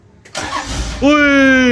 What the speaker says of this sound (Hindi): ये टक करके शाहरुख की गाड़ी स्टार्ट हो गई है